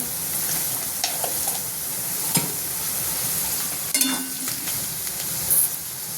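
Potatoes and peas frying in a pan with salt and turmeric, a steady close sizzle with occasional stirring scrapes and brief clicks, no voices.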